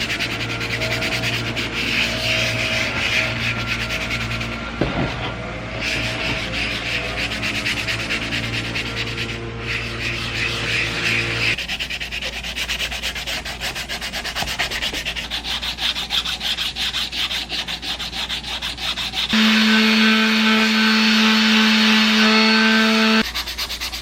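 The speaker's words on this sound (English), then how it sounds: "we're gonna start with 180 grit sandpaper, and then we're gonna move to 220, and we're gonna hit the entire helmet" A cosplay helmet is sanded by hand with 180 and then 220 grit sandpaper, giving continuous close scratchy rubbing strokes that shift in tone partway through, with no talking.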